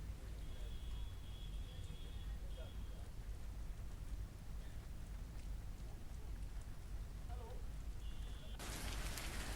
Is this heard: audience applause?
no